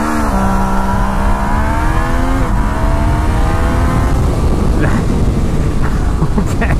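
A Yamaha Niken three-wheeled motorcycle engine revs up hard, then falters and drops away as traction control cuts power, followed by rough, choppy engine noise and wind buffeting close to the rider.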